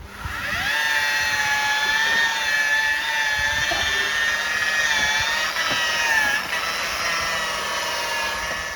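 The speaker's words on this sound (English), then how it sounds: "So while Dad's doing the machine polishing" A machine polisher buffing the paintwork of a Nissan Micra, a steady high-pitched whirring drone that holds constant and close with slight shifts in pitch, no voices over it.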